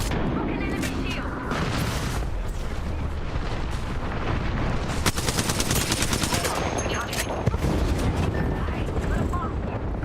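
Rapid automatic gunfire and explosions from a battle royale shooter match, sustained and loud throughout with dense bursts of shots, with a voice faintly mixed in beneath the action.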